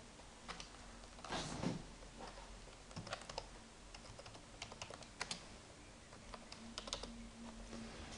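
Keys clatter on a computer keyboard while C code is written, quiet irregular bursts and single taps spread across the stretch with brief pauses, no voices.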